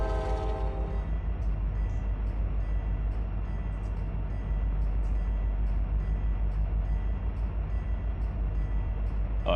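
A CSX freight train crossing in the Run 8 railroad simulator, with a horn chord sounding at the start and a steady, loud, low rumble of rolling wagons and a rhythmic clatter of wheels over rail joints continuing throughout.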